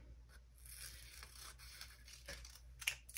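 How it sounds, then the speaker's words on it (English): Scissors cutting through folded magazine paper, faint close snips and papery scraping and tearing, quiet and unbroken by any talk. "So I'm gonna fold it in half, open it up, and cut straight down that line."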